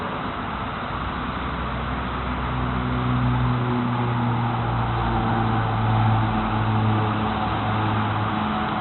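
Highway traffic roars past from a nearby elevated road, a steady broad rush with low engine drone, including a truck running at over 80, swelling slightly midway and continuing without pause.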